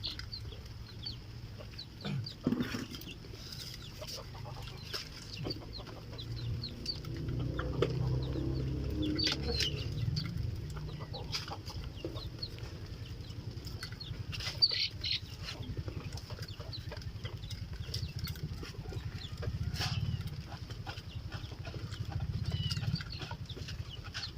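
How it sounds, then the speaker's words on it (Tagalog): A flock of ducks calls in soft, continuous chatter outdoors, with scattered sharper squawks and some wing flutters over a low background. "ito na pala yung ating mga itik"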